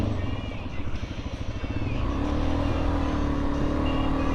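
A Suzuki DRZ 400 dirt bike ridden on a dirt trail, its single-cylinder engine buzzing loudly close by, rising from choppy uneven revving into a steadier higher drone.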